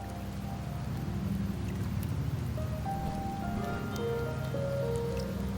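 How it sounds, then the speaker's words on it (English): Steady rain pours in a video game, a dense continuous patter with faint game music tones drifting over it and no voices. "The rains in Septimont never seem eager to leave this season."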